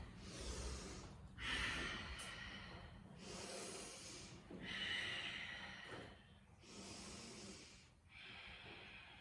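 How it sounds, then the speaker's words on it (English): Deep, slow yoga breathing during a vinyasa flow, with soft, close inhales and exhales rising and falling in a steady rhythm over several seconds and no talking. "Breathing into the full capacity of the lungs, and with each exhale, fully letting it go."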